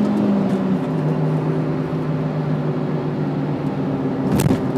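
A car cruising along an ordinary road at about 110 km/h on a stock, unmodified engine, with a steady drone of engine and road noise throughout and a brief louder swell near the end.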